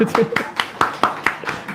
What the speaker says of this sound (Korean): 박수로 치세요